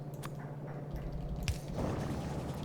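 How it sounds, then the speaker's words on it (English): Liquid bubbles softly in the Factorio video game, with faint gurgles and drip-like pops over a low, steady hum. "We got bubbling going on."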